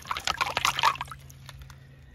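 A fossil dipped into water outdoors, with a burst of splashing and trickling at the start that quickly fades to a few faint drips.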